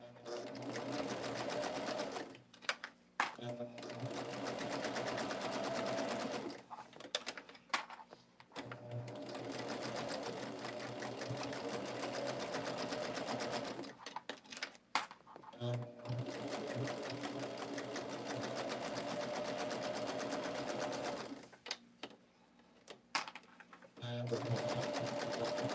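A sewing machine stitches the inner border of a quilt in long continuous runs, with several short pauses between passes, and a person talking over the steady whir.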